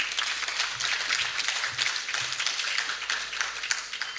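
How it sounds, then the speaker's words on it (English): Audience at a State House award ceremony clapping for a third-place award recipient, a steady sustained wash of many hands close by with no talk over it. "Let's give a loud hand clap for him."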